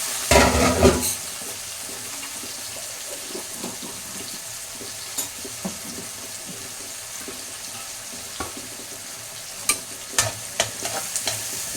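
Onions sautéing in a pan, a steady close sizzle with intermittent stirring and scraping clicks, opening with a louder burst of hissing, no voices.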